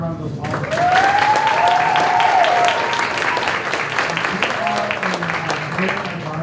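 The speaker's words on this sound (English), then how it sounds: "Let's give them one more round of applause." Audience applause at a school board meeting, a steady round of clapping rising quickly and holding throughout, with a voice speaking over it.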